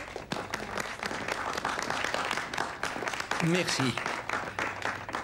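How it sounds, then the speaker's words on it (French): An audience applauding Monsieur Angelo at a horse-riding trophy ceremony, with steady clapping throughout and a brief spoken voice over it. "J'aimerais qu'on applaudisse Monsieur Angelo ici présent."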